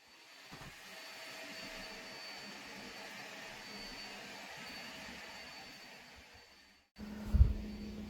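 A household vacuum cleaner runs with a steady whooshing whine for several seconds, then cuts off and is followed by a brief bump.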